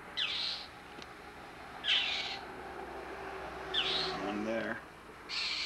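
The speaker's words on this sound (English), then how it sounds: "The bird's sitting on the thing yelling at him." Birds on a perch at a fairground give loud, harsh calls in repeated bursts roughly every two seconds, with a voice briefly speaking between them.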